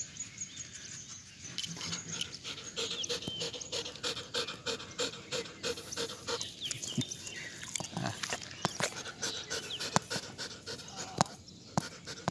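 A pet dog at home pants rapidly and rhythmically close by, a steady breathy huffing that continues for over ten seconds with faint household noise behind.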